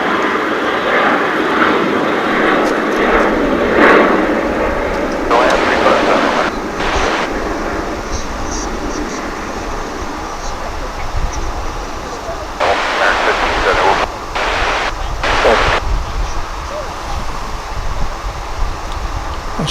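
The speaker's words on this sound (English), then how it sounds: "There goes our flight into the sky." An airliner departs Dallas/Fort Worth International Airport for Spokane under cloudy skies, a steady, distant jet rumble that persists beneath wind noise, with a few louder gusty bursts.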